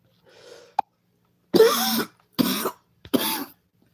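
A faint small click, then three sharp coughs spaced about a second apart, close and loud against silence.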